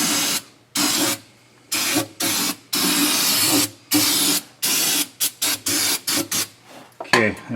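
Brake clean solvent hisses from an aerosol can onto a 2018 Chevrolet Silverado drivetrain housing in a string of loud, close bursts, long sprays at first, then shorter quick squirts.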